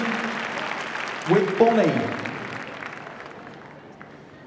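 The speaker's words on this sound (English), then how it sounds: "give them a nice round of applause" Audience applause at the Crufts dog agility show, a steady wash of clapping from an indoor arena crowd that swells briefly midway and then fades, with an announcer speaking over it.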